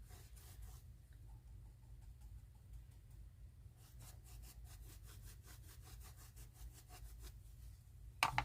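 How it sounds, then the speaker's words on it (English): A bristle brush scrubs a plant stand vase in rhythmic back-and-forth strokes, one short burst, a pause, then a longer steady run of close scratchy strokes, ending in a sharp knock. "I think I'm going to start off with the bristle brush and see what that does."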